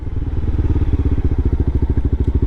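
A Honda CBR300R motorcycle engine idles close by with a rapid, even, throbbing pulse, loud and alone.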